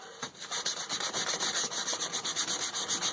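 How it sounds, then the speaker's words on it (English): Steady back-and-forth rasping of 150-grit sandpaper rubbing lightly over a knife sheath, close up, in quick even strokes with no talking. "I'm not sanding too hard on this. I think I'm using a 150 grit, just a piece of sandpaper."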